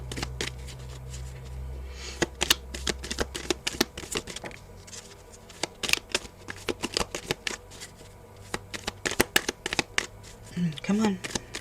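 Tarot cards being shuffled by hand, a rapid run of crisp riffling flicks and slaps that comes in bursts across the span, close up, with a low hum underneath and a brief voice near the end.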